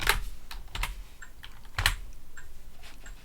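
Keys clatter on a computer keyboard as a command is corrected on a Linux desktop, a handful of quick close taps in two short bursts with quiet gaps, no talk.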